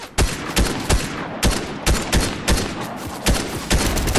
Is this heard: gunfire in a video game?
yes